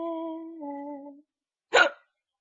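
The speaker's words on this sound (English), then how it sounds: "My hiccups just don't want to go away." A girl hiccups once, loud and close, after a stretch of humming or sung melody, with a short silence just before the sharp catch.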